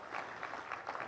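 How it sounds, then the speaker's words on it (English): Faint, soft applause from a conference audience welcoming visiting delegates at a Uganda–South Africa trade summit, a steady patter of claps at a distance, brief. "give a big hand clap to our visitors"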